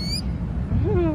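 Small bird near its nest with eggs fallen to the ground, giving brief high calls, then a louder rising and wavering call close by over low background rumble.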